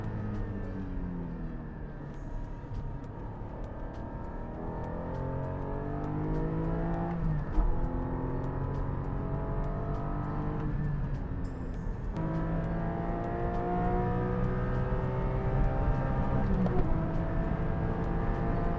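A Porsche sports car engine revs hard at high RPM on a track, a loud sustained howl that climbs and drops through repeated gear changes, heard from inside the car with no talk.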